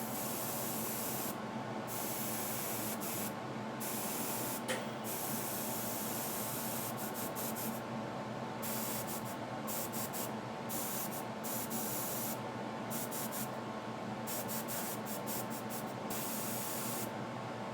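Airbrush spraying paint on an Ork squig miniature, a steady close hiss running the whole time with brief gaps where the trigger is released, no talking.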